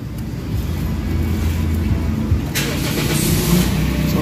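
A parked Toyota Vios that has had a cranking but no-start problem, its engine turning over and catching into a steady idle, close and loud with a low rumble throughout.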